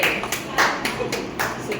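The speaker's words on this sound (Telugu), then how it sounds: "చాలా తక్కువ టైంలో పెట్టినందుకు క్లాప్స్" A small group of women claps at a kitty party game, several short rhythmic bursts of hand claps close by, with voices mixed in.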